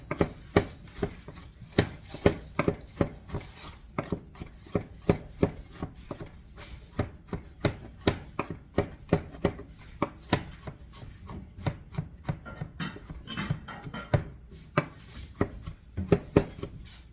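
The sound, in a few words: mincing food on a cutting board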